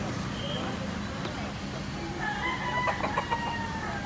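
A rooster crows in the background, a drawn-out call in the second half over a steady murmur of room noise and indistinct voices.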